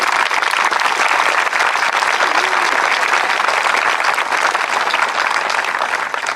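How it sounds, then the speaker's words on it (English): A graduation audience at a 2013 ceremony breaks into loud, sustained applause, a dense and even roar of many hands clapping that carries on for several seconds without letup. "You deserve a huge round of applause."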